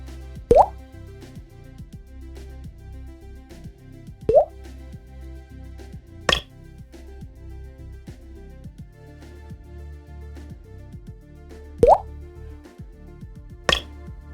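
Water drips in a video game under development: five separate plopping drops fall at irregular intervals, each crisp and fairly loud, over a quiet droning background.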